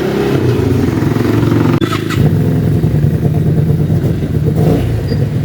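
A Fekon motorcycle engine revs loudly and close by, a deep throaty rumble that holds steady, dips briefly, then roars back up.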